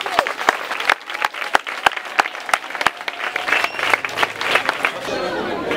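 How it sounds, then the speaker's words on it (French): A crowd claps, starting with a few sharp separate claps, then swelling into dense, sustained applause. "Applaudissez les enfants!"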